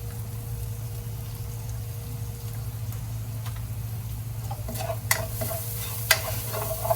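Garlic sautés in butter in a pan with a soft, steady sizzle and low hum for several seconds, then a few sharp spatula clicks and scrapes near the end, with no voices.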